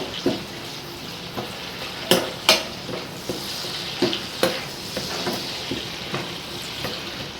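Curry leaves frying in a pan give a continuous sizzle, with scattered sharp spatula scrapes and knocks against the pan at irregular intervals.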